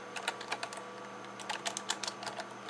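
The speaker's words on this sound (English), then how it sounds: "You want to type in your FTP server number that is on your iPod." Keys clacking on a computer keyboard in two quick bursts of typing with a short pause between, close and fairly quiet over a faint steady hum.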